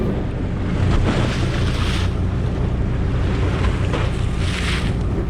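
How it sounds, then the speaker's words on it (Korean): Heavy ocean swell and waves washing around a small fishing boat out for octopus, with steady rushing water and wind buffeting the microphone, loud and continuous throughout. "너울이 더 크게 일고 있었습니다"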